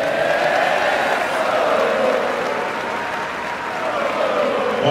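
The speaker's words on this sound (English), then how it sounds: "How about another round of applause for these fine folks?" Sustained audience applause fills a stadium-style Skull Session pep rally before an Ohio State versus Wisconsin game, a dense, steady roar of many hands clapping together without a break.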